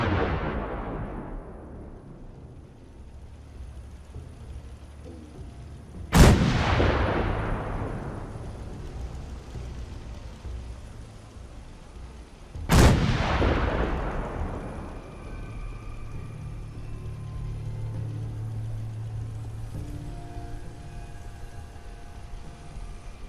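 Two heavy artillery blasts strike a Gunner fleet in Fallout 4, each a sudden loud boom followed by a long rolling decay, spaced several seconds apart over a low rumbling backdrop.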